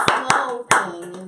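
A few sharp, separate hand claps ring out at a stand-up comedy show, close and loud, with soft talk murmuring between them.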